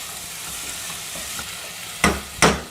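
Tomatoes, garlic, ginger and onion frying in a pan for a peas masala gravy, a soft steady sizzle broken near the end by two sharp, loud stirring scrapes, no talking.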